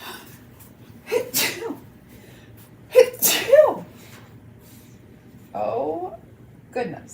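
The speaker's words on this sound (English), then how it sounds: "Hold on, I'm going to sneeze." Several sneezes burst out indoors during a craft session making a door tag, each a sharp close burst with breathy intakes between, a few breaths and sounds of the person recovering after.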